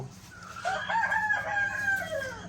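A rooster crows loudly and close by in a drawn-out cock-a-doodle-doo, with chickens clucking in a backyard poultry pen and no talk.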